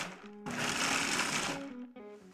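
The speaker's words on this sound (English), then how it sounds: "Then we add 1 1/4 cups of unsalted pistachios that we've toasted and cooled, and pulse until just coarse," A food processor pulses toasted, cooled pistachios in a single loud whirring burst of about a second, set between stretches of speech.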